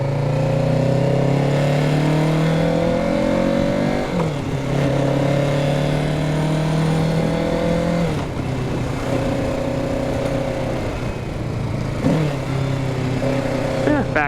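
A motorcycle engine revs and drones steadily on a wet ride, rising and falling in pitch with gear changes, loud and close throughout, with faint speech at times.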